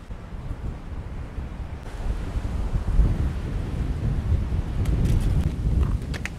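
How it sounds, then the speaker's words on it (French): Steady wind rumbles and buffets the microphone outdoors at the Lastours castles, growing stronger toward the end, with a few faint clicks near the close. "il y a beaucoup de vent"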